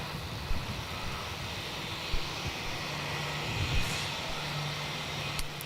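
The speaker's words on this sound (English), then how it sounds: "So your first one in is Jetstar 122, the 6-month-old Neo. Yep. Not too far away from touching down now." A Jetstar Airbus A320neo jet approaches to land at Melbourne Airport, heard as a steady, moderately loud broadband roar with a low engine hum that holds throughout, with no talking.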